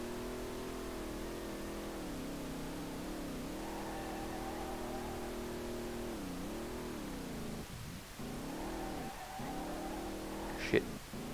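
Nissan VR38DETT engine swapped into a 350Z in the racing game Street Legal Racing Redline, droning steadily with rising and falling revs during drifting, a brief sharp spike near the end.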